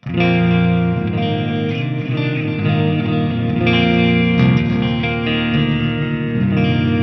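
Electric guitar played through an Eventide H9 MK2 in an amplifier's effects loop into a Marshall 4x12 cabinet, ringing sustained chords thick with chorus, echo and reverb, loud and continuous.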